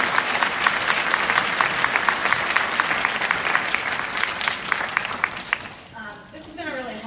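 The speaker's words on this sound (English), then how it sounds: "So I think you need to give yourselves all a round of applause." Audience applause at a candidates forum for the 7th District, steady dense clapping from a room of people that runs for several seconds, then thins out near the end as a voice begins talking.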